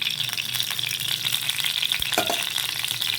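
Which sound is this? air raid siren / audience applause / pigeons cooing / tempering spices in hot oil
tempering spices in hot oil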